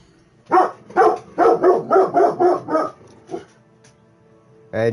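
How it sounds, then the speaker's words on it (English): A dog named Chandler barks indoors, a close, loud run of seven quick evenly spaced barks, then a softer yip after a pause and one more bark at the end, with no talking. "And Chandler barking again"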